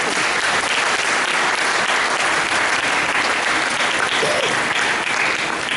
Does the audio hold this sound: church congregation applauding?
yes